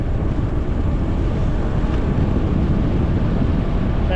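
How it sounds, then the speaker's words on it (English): A strong wind roars across the microphone while cycling on a hilltop at the edge of an escarpment, producing a loud, steady, unbroken buffeting rumble throughout. "Yeah, super windy,"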